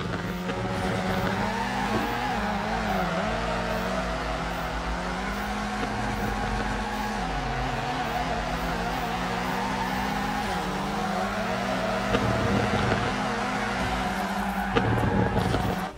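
A game car drifts in FR Legends, its engine droning steadily and its tires squealing in long, wavering slides, with the pitch rising and falling throughout and a brief burst of louder scraping near the end.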